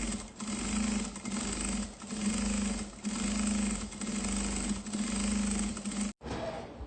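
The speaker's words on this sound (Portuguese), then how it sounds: "eu vou fazer uma costurinha na bordinha, chamada costura de estabilização ou de segurança, para poder prender o tecido principal e o forro." A sewing machine runs a stabilizing seam along the edge of a fabric bag, joining the main fabric and the lining. The steady, close stitching rattle pulses in regular bursts and stops abruptly near the end.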